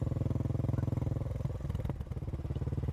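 A motorcycle engine runs at a steady, pulsing idle-to-cruise chug, close and continuous, with a slight change in tone midway as the bike rides along.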